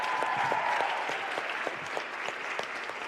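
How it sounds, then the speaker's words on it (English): Audience at a conference plenary session applauding, a steady wash of many hands clapping, moderately distant and sustained throughout without pause. "So have a huge applause for them."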